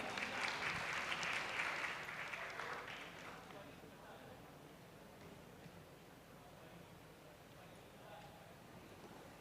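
A school event audience gives students a round of applause. The clapping is fairly faint and distant, strongest at the start, and tapers off over a few seconds into quiet room noise.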